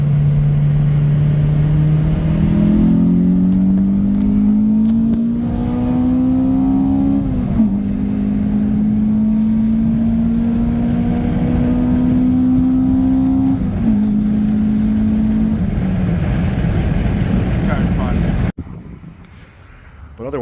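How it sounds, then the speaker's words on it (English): An E85-fueled 2003 Toyota Matrix XRS engine revs hard at high RPM, its rising harmonic pitch climbing in repeated pulls with brief shift drops, loud and close for about eighteen seconds before cutting off abruptly. "so that you can actually hear this engine, because they sound phenomenal at high RPM"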